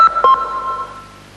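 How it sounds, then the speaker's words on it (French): A mobile phone ringtone from a Bouygues Télécom television advert plays a short, bright electronic melody of a few sustained tones, loud and clear with no speech over it. "On ne connaît pas encore le téléphone de demain, mais on connaît déjà sa sonnerie."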